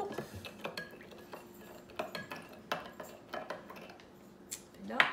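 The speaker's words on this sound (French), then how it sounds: "On brasse le tout." A spoon stirs sugar into a sauce for gyoza, clinking and scraping against the bowl in quick irregular taps, close and fairly quiet, with a brief louder clatter at the end.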